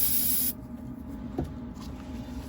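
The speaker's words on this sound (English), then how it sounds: "when I spray it with the accelerator" A short, sharp hiss of accelerator sprayed onto a woodturned mushroom, loud for about half a second and then cutting off, followed by quiet room tone with a faint knock.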